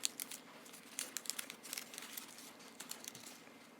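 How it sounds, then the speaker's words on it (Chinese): A COVID-19 rapid test package being torn open, a quick run of close, faint crinkly rips and rustles of packaging with no talking. "接下来要撕开"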